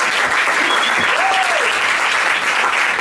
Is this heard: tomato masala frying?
no